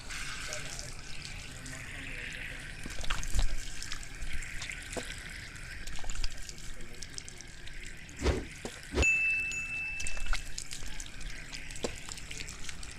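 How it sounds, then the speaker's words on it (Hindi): Water splashes as hands wash the face during wudu, with a tap running softly in the background. The splashes come as faint, intermittent sloshes and drips, spaced a few seconds apart. "उसके बाद चेहरा धोएंगे।"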